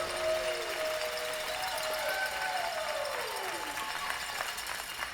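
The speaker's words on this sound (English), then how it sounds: "Crowd here in Raleigh appreciative as Sinclair watches her third Christensen eliminate 2 red Japanese stones." A curling championship crowd in Raleigh gives sustained applause and cheering that fills the arena at a moderate level, steady throughout, under a low, faint broadcast voice.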